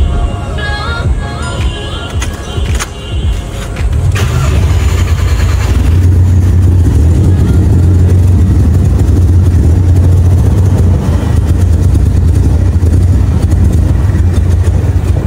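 A Skoda Laura 1.8 TSI engine, just fitted with a new fuel filter, settles after some close rustling into a loud, steady, low idle that holds without pause.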